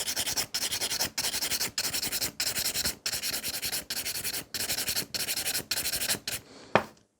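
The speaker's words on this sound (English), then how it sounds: "So I'm still filing the sides walls, but at the same time I'm going like those kind of angle upwards to thin it out as well." Close, rhythmic rasping of a nail file working along the side walls of coffin-shaped nails, about ten steady back-and-forth strokes with short pauses, then a brief tap at the end.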